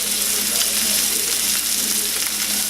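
A big juicy steak sizzles loudly in a pan, a dense, continuous hiss and crackle filling the whole moment close up, with no talking.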